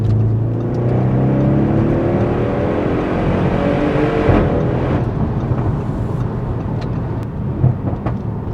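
A blue Audi RS6 C7 Performance, a heavy two-tonne estate, drives along with a deep steady engine drone and low rumble, rising in pitch as it pulls, then easing off toward the end, heard from inside, no talk.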